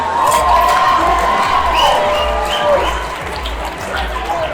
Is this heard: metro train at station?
no